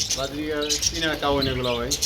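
Budgerigars chirping and warbling in busy, overlapping bursts, close by and fairly loud.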